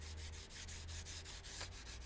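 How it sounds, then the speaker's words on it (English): Sandpaper rubs lightly over the old wooden stock of a Kar 98 rifle, a soft, faint, steady scratching in quick repeated strokes with no talking. "Now, if there's a lot of oil in this, this sandpaper will start to crap up."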